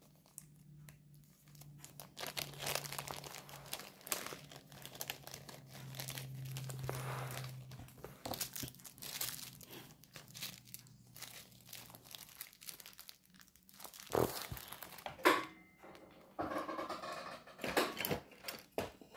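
Plastic bag crinkles and rustles close up in repeated bursts, with brief pauses between handling sounds and no talking.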